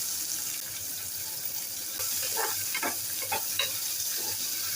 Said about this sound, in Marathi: आता हा छान एकदम सोनेरी होईपर्यंत परतून घेऊया